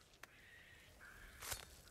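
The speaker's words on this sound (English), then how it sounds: "I don't like that bird noise." Crow cawing in Ghost of Tsushima: a couple of faint, drawn-out harsh calls over quiet ambience, with a brief thump partway through.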